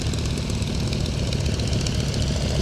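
Fairey Swordfish biplane's radial engine rumbling loud and steady at an air show, a deep continuous drone with a faint propeller beat throughout.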